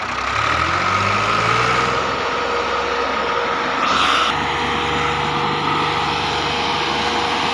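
A Millat tractor's diesel engine labors steadily as it pulls up a slope, a loud, continuous low rumble close by that holds for several seconds with a brief rise in pitch midway and no voices.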